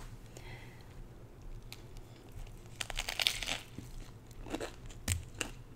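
Crisp crunching and crinkling from a Subway sandwich stuffed with chips being bitten and chewed up close, with wrapper rustles and sharp crackly bites in bursts, no talking.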